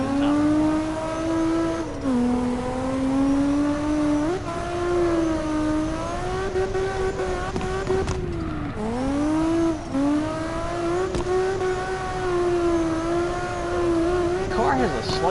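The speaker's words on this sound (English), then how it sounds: "The car has a slightly decent blow-off valve sound to it." A car engine in the drifting game CarX Drift drones and revs continuously, its pitch rising and dipping with throttle changes, and a blow-off valve pops during brief lifts, loud and constant throughout.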